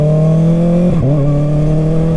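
A 2024 Kawasaki ZX6R 600cc sport bike pulls hard, its engine droning high and loud, then dipping briefly on a quick-shifted gear change before climbing again.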